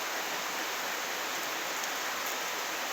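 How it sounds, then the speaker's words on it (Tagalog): Steady rain drips and patters without a break, a dense even hiss with no voices. "Background ko, ulan. Tulo ng ulan."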